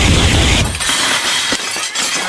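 A small model church smashes on the floor, a loud crashing burst of breaking, shattering material with brittle clatter continuing and fading over about two seconds.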